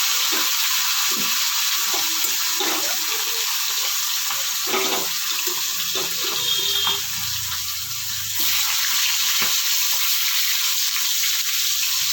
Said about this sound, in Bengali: তেলটা পুরো গরম হয়ে গেছে। এবার আমি মাছগুলো ভেজে নেব।